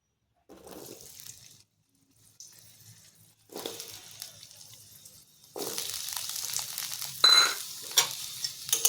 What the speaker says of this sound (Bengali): এখন আমি আলুগুলো ভালো করে ভেজে নেব